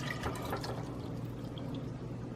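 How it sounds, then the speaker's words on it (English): Garlic-poached oil poured from a pan into a heat-proof container, a soft, steady liquid trickle heard up close for a couple of seconds with no talking. "we're going to actually just pour off this oil into a heat-proof container"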